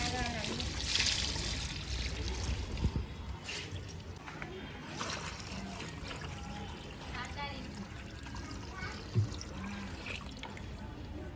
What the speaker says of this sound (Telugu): ఇప్పుడైతే బర్డ్స్ కోసం వాటర్ పోసేస్తున్నాం దీంట్లో.